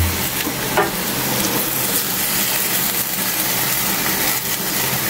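Sliced onions sizzle loudly in a hot pan for octopus paksiw, making a dense, constant frying crackle with a bit of stirring.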